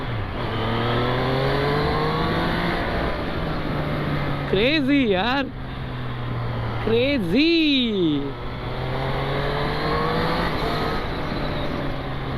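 A lightweight superbike's engine hums steadily while riding, then rises in two sharp revs with quick throttle blips that fall away again. Someone speaks excitedly over it.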